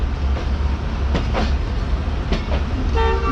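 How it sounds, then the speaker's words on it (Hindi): Pakistani 12 Down Hazara Express train passing at Khanewal outer, a steady low rumble of rolling wagons with clicking wheel beats, ending in a brief tonal horn-like toot; no talk. "खानेवाल आउटर पर इस वक्त मौजूद है हवेलियाँ और कराची के दरमियान चलने वाली 12 डाउन हज़ारा एक्सप्रेस"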